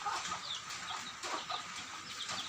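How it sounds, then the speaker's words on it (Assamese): Chickens grazing in a wet yard during light rain give soft, scattered clucks at a distance over a steady hiss of rain. "এয়া মুৰ্গী দেখিছে, মুৰ্গী চৰি আছে"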